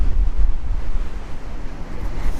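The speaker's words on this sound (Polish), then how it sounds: "Tylko wieje, więc zakładam kaptur." Steady wind roars on a wide sea beach at Łeba, a loud continuous rumble buffeting the microphone with the wash of surf behind it and no voices.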